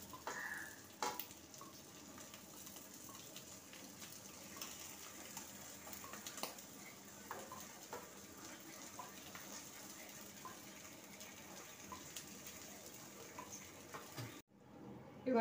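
Egg-coated pieces frying in a pan, a continuous close crackling sizzle with occasional pops and stirring clatter that runs for a long stretch and then cuts off abruptly near the end.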